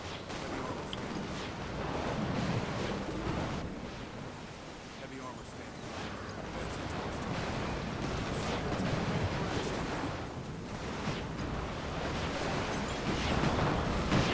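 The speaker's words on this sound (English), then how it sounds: "cool fire effects or explosions or whatever it is" Fire effects and explosions in a battle in the real-time strategy game Mass Conflict: Ignition, a continuous rumbling wash of blasts and burning with surging peaks, dense and sustained over a roaring background.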